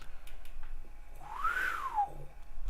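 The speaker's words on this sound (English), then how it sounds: "that is how much whistling I am capable of with this much whiz in my system" A person whistles a single rising and falling tone, clear and moderately close, with faint background clatter around it.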